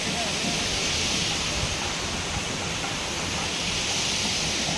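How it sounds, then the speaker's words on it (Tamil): Water pouring down a waterfall in a large forest, running at low flow, makes a steady, close broadband rush that never lets up. "ஆனால் ஆனால் தண்ணி கம்மியாக வருது இங்கே."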